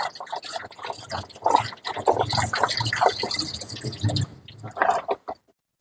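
Garlic and shallots being washed by hand under running tap water: a steady splashing trickle with dripping and handling noise, close and continuous before falling silent at the end.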